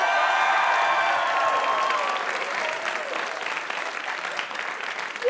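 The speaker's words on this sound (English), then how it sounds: "Let's give me a cheer if you want to see him saved" Live studio audience cheering and applauding in a sustained, dense roar that stays loud throughout, easing slightly toward the end.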